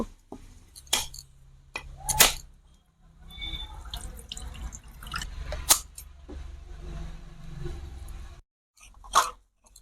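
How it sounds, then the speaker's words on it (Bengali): A whole coconut is struck and split open in a home kitchen, with several sharp, loud cracking hits spaced a few seconds apart over a low background clatter. "এই নারকোলটা প্রথমে আমি কেটে নেব"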